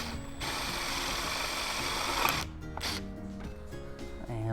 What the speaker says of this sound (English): Now we're just going to drill it out.